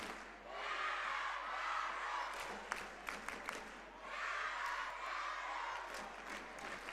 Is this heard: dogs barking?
no